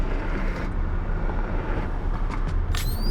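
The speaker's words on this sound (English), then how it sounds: "I just add a sound of the car from inside" A car interior drone used as a sound design layer: a continuous low road-and-engine rumble, fairly even and moderately loud throughout.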